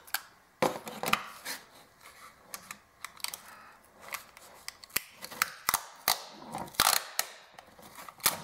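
Tape being pulled and wrapped around a tube of reused batteries: irregular close crackles, rips and sharp clicks come in short bursts with quiet gaps between, no talking.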